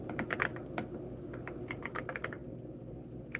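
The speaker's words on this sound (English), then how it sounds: "The keyboard sound" A computer keyboard is typed on in quick, irregular bursts of crisp keystrokes, fairly close, with a brief pause before a final tap.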